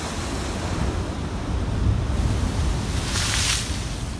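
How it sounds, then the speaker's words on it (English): Ocean surf rolls toward the shore in steady wind, with a low rumbling wash and a wave breaking in a brighter rush near the end, heard close with wind buffeting the microphone. "Oh boy, that wave is coming fast."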